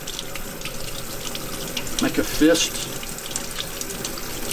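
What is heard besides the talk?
water running onto a waterproof glove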